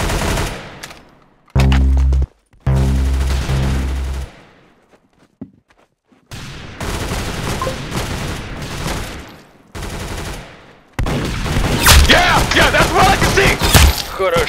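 Video game gunfire: bursts of rapid automatic shots and heavy blasts, loud and close, separated by brief quiet gaps, with the final stretch dense and chaotic, including what sounds like shattering.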